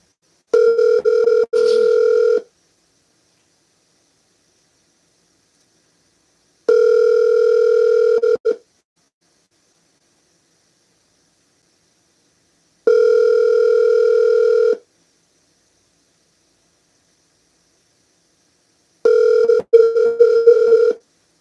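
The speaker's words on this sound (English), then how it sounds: "We are not getting through to Carlos" Telephone ringing on an outgoing call that goes unanswered, with four long repeated ring tones separated by silent gaps, clear and alone with no talking.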